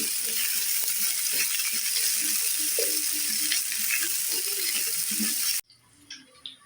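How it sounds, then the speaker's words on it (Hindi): Onion, ginger and garlic frying in a spoonful of hot oil make a continuous close crackling sizzle with small scraping ticks, which cuts off abruptly near the end. "एक बड़ा चम्मच ऑयल लिया है और उसमें हम प्याज, अदरक और लहसुन, इसको भी हल्का सा जो है वो हम रोस्ट कर लेते हैं"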